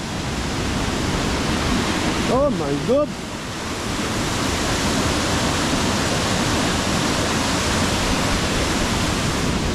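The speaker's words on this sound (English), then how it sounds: "I'm excited to get over that waterfall." Steady, loud broadband rush of a waterfall at Aberfeldy fills the whole stretch, with a brief exclaiming voice partway through.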